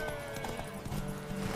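Horse hooves clip-clop faintly in The Witcher 3, a quiet irregular trotting rhythm set against game music and ambient tones.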